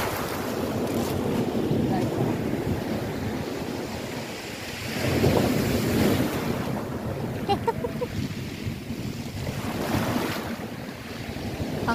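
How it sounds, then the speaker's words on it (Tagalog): Sea waves wash against the shore in a continuous, loud surging wash with a swell around the middle, mixed with wind buffeting the microphone; no talk is heard. "yung dagat nasa tabi natin"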